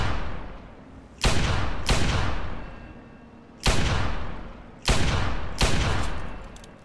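Gunfire in the video game Fallout 3: four heavy, booming shots spaced a second or two apart, each cracking sharply and then rolling off in a long fading echo.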